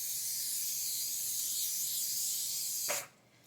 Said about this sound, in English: First I'm going to spray this with the butter flavor off-brand Pam